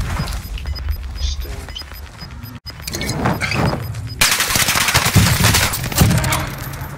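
Rapid gunfire in a Godzilla vs Kong video game, dense bursts of shots growing louder and more continuous toward the end, with a voice talking underneath.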